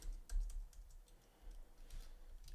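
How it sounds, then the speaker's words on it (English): Rapid, uneven taps on a computer keyboard come through quietly, with small clusters of key clicks and short pauses between them. "typing and talking."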